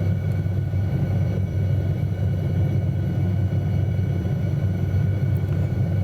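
A helicopter in Microsoft Flight Simulator 2020 flies near the Tignes dam, with a steady low engine and rotor rumble droning evenly throughout, with no speech.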